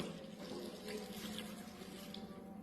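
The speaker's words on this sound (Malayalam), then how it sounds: "എന്തായാലും 2 ഗ്ലാസ് വെള്ളം ഒഴിക്കുന്നുണ്ട്." Two glasses of water are poured into a pressure cooker holding jackfruit pieces, giving a faint, steady splashing trickle that runs evenly through the whole stretch with no voices.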